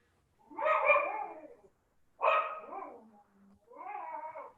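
A dog gives three long, whining barks close by, each drawn out and separated by short pauses, with the last one softer.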